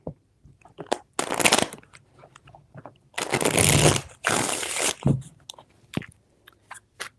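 Tarot cards are shuffled close up in bursts, two long riffling runs in the middle framed by shorter crisp snaps and taps, loud and dry against near silence.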